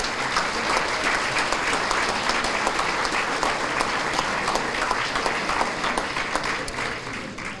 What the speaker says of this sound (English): will you applaud these folks for the incredible job they do for our students in our region?